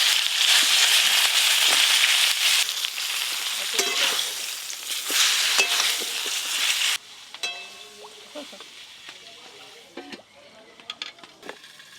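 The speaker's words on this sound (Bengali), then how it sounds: "বেগুনগুলো আমি হালকা করে ভেজে নেব।" Eggplant pieces frying lightly in a pan for a Bengali shukto, a loud, dense sizzle that runs steadily for about seven seconds, then drops to a much quieter crackle with scattered pops and soft clinks.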